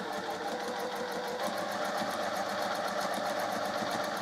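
A sewing machine runs a steady stitch along a marked diagonal line on a flying geese quilt block, its needle pounding in a fast, even rhythm, close and unbroken.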